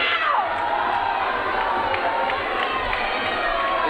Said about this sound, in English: The student section is going crazy. They're cheering him on.